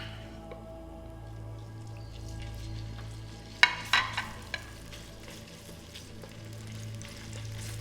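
Pork frying in a pan for Korean black bean noodles (jjajangmyeon) gives a steady low sizzle under a faint hum, broken around the middle by a few sharp clinks of stirring.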